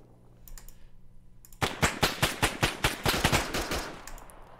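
Rapid automatic gunfire in the Arma 3 video game, a burst of about a dozen sharp, evenly spaced shots after a quiet lead-in with faint distant pops and a low hum.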